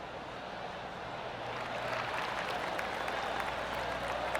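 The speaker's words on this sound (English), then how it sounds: "That deserves a golf clap." Soft, sustained golf applause from a gallery in the PGA TOUR 2K23 video game at the Zurich Classic of New Orleans, a steady wash of many distant claps with no talking over it.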